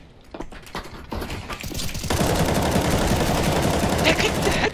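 Rapid gunfire in the video game CS:GO on a pirate-themed map, starting as scattered separate shots and then building into dense, sustained automatic bursts at close range, with a voice heard briefly over it.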